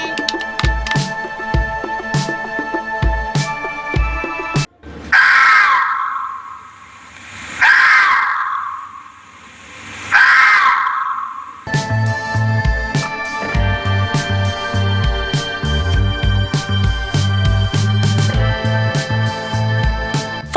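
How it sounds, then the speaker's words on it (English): Fox call: three or four harsh, rising screams spaced a couple of seconds apart, loud and alone, set between stretches of busy background music. "Fox."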